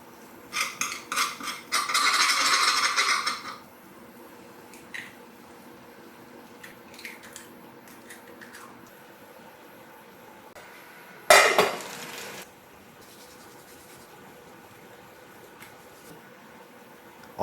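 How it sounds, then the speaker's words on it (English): Eggs cracked onto a hot surface at a DIY 12-volt portable cooking station, with a loud bright clatter of metal utensils and sizzling early on, a sharp scrape or knock partway through, and quiet cooking sounds in between. "I make a little area in the middle to crack in a few eggs and finish this meal off"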